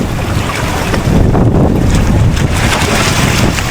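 Strong wind buffeting the microphone outdoors near water, a loud continuous roar with low rumbling gusts and no voices.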